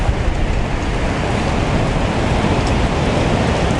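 Strong winter wind roars steadily over the sea at Anapa beach, a dense unbroken rush of noise with waves washing beneath it and no voices.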